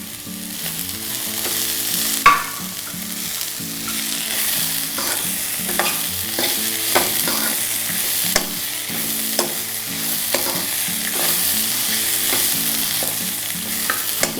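Mixed vegetables with capsicum fry loudly in a pan for an upma, a continuous sizzle punctuated by repeated scraping and knocking strokes of a spatula as they are stirred.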